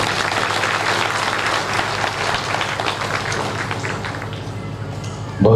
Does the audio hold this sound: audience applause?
yes